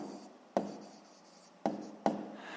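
Pen writing on paper during a sixth-grade math exercise: soft close scratching strokes with three sharp taps of the pen touching down, quiet and without speech.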